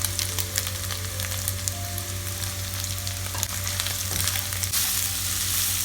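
Carrots, capsicum and cabbage are stir-fried in a pan for chicken fried rice, giving a steady close sizzle with occasional scraping and stirring sounds throughout.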